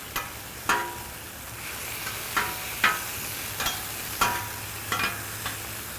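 A thin steak for a Baja California cheesesteak cooks gently on a griddle: a quiet, soft sizzle broken by about a dozen sharp, irregular clicks and scrapes, with no talking.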